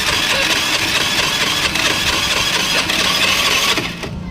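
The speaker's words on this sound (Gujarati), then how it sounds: "ગાડી ચાલુ નથી થતી." Hero Maestro scooter engine failing to start: a loud, close, continuous cranking whir for about four seconds without catching, then the sound drops off abruptly.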